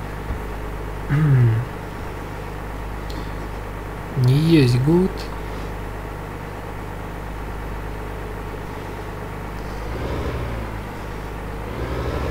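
Steady low drone of a tractor engine running in Farming Simulator 15, idling continuously beneath someone talking, with a couple of brief louder warbling tones on top.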